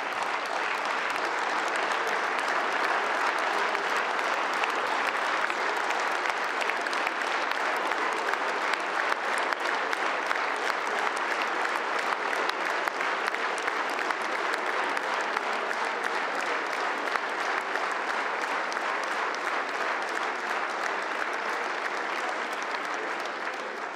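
Members of the French National Assembly stand across all benches and applaud a deputy at length, a dense, steady roar of clapping that stays loud and unbroken throughout, with no talk over it.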